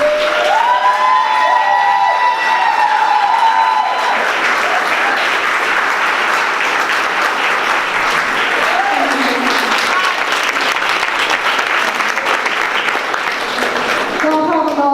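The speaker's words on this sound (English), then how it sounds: "I want everyone to please stand up and give a round of applause to Christy Sims." A standing audience claps for a guest at an advocacy event, full and sustained applause lasting throughout, with scattered cheers and voices mixed into the crowd noise.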